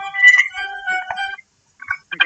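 A mobile game ad plays from a phone speaker: a short run of bright electronic musical tones, then a pause and two brief chiming bursts, at moderate volume with no talk over it.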